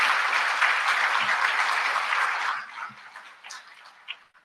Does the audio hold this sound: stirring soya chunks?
no